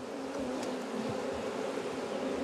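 Honeybees hum in a steady, dense drone around an open hive in a Corsican apiary, a continuous close buzz with no voices.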